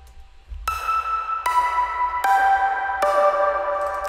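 Bright synth tone layered from two sample-pack sounds plays four sustained notes of a simple stepping melody, each entering with a sharp attack and ringing with a shimmering high end, alone and fairly close.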